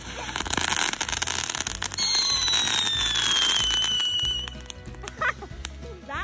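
Backyard fireworks on a hot July day, with a loud fountain hissing and whistling for several seconds and then a crackling burst of sharp pops close by, outdoors.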